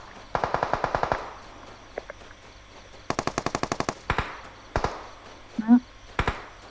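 Gunfire from a sniper scene comes in rapid bursts of close, sharp shots with single cracks between them, and a voice cuts in briefly.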